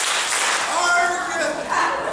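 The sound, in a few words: hand clapping during song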